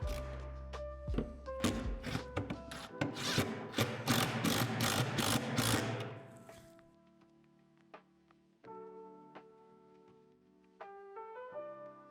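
A ratchet wrench tightens bolts on the backboard hardware of a Lifetime 48-inch portable basketball system: a fast run of loud, close clicks for several seconds, then slower, quieter clicks and a few metallic thunks.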